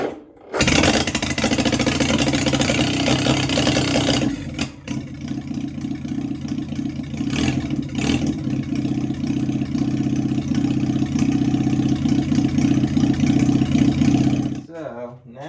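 A Farmall M tractor fitted with a swapped flathead engine cranks briefly, catches and settles into a steady, loud idle with a low rumbling pulse that runs for over ten seconds before cutting off; no one speaks over it.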